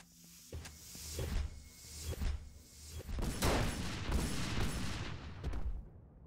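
Gunfire in a first-person video game: several sharp shots and short bursts, loud and close, spread across a few seconds with brief gaps and no talking.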